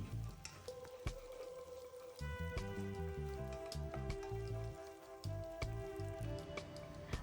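Sliced ingredients for a mushroom and green peas biryani fry in a pan, a faint, steady crackle and sizzle over a sustained tonal hum.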